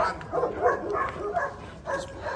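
Guard dog barking and yipping in excited bursts during protection training, fairly close, with short whimpering yips between barks and no talk.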